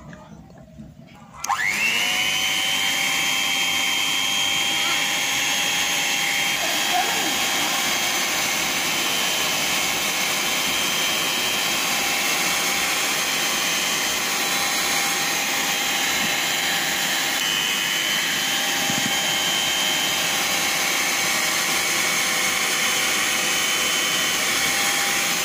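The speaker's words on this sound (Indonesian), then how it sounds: "lalu bahan-bahan ini kita mixer sebentar." Electric mixer whirring steadily through sweet potato dough ingredients, switching on sharply after a brief quiet moment and then holding a loud, continuous motor drone with a high whine for the rest of the clip.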